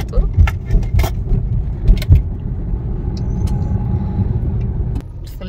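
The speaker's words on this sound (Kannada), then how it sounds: "ಫುಲ್ ಟ್ರಾಫಿಕ್, ಈ ದೊಡ್ಡ ದೊಡ್ಡ ಟ್ರಕ್ ಎಲ್ಲ ಹೋಗ್ತಾ ಇರುತ್ತೆ ಇವಾಗಂತೂ, ಲಾರಿ ಎಲ್ಲ" Heavy road traffic with big trucks and lorries rolls past on a road near Narahari Parvata, a continuous rumbling roar with clattering bumps and passing surges, fairly near.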